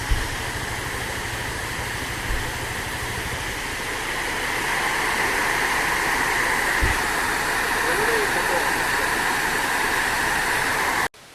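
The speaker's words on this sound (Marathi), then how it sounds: "धबधबा बघा इथे कसला बघा" Steady broadband rush of a roadside waterfall on the way to Raigad fort, loud and continuous throughout, swelling slightly midway, with a brief bump of handling noise near the start.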